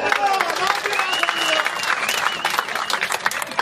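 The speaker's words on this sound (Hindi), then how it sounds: "थोड़ा दिल खोल कर ताली मारो।" A crowd claps and applauds at a bull race event at a village fair, the dense clapping continuous and fairly close, with a voice carrying over it on a loudspeaker.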